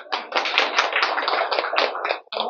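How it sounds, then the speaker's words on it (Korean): Dense audience applause in a Buddhist temple lecture hall at Bulgwangsa, a steady wash of many hands clapping for about two seconds before cutting off briefly and resuming. "박수 주세요."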